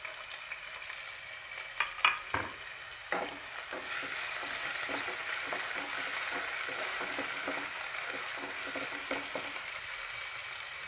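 Brinjal pieces sizzle steadily in about three spoons of hot oil, with a few sharp clatters of stirring early on, then an even, close frying hiss with soft scrapes.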